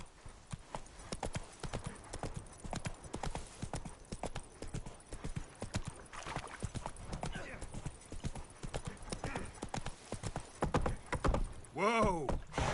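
Roach the horse gallops in The Witcher 3, with a steady run of hoofbeat clip-clops throughout and a whinny near the end, while a voice speaks over the hooves.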